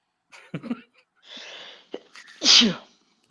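A person sneezes loudly at close range, a sharp burst preceded by smaller sniffs and noises, with a brief lull of faint rustling before the final explosive sneeze.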